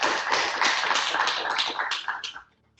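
An audience applauding to welcome a guest at a health-industry talk event: dense, steady clapping from many hands that is fairly close and loud, then fades out over the final half second, with no talking.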